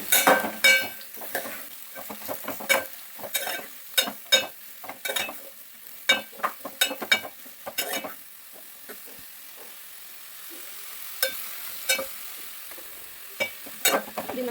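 A mixture stirred and roasted in a hot pan over medium flame, with repeated scraping and clinking strokes of a utensil against the pan over a soft continuous sizzle, irregular in rhythm and close by.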